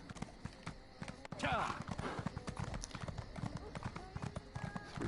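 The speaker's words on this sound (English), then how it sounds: "I like the sound of a horse gallop" Quiet rhythmic hoofbeats of a galloping horse in The Elder Scrolls Online patter along continuously, with a brief swish partway through.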